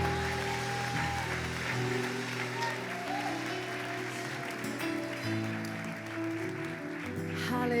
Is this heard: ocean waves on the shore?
no